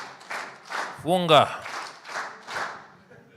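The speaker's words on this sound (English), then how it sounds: "Let's give him a clap" A conference audience at an East African Court of Justice judicial gathering claps in a few rhythmic, unison bursts, mixed with a group chant and voices.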